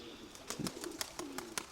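Pigeons being scattered, heard as a faint, close flutter of several sharp wingbeat claps over a low, soft cooing hum, all fairly quiet.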